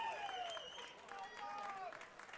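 Spectators at a masters swim meet cheering a swimmer toward the finish, faint distant crowd noise in an indoor pool with a voice calling over it.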